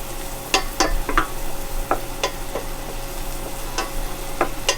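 Garlic sizzling in a frying pan as it is stirred for a seafood ravioli sauce: a steady close crackle punctuated by repeated sharp scrapes and clicks of the utensil against the pan, fairly loud, with no talking.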